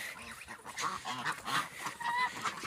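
Several geese honk in a noisy cluster of overlapping calls, fairly close, with brief gaps between bursts.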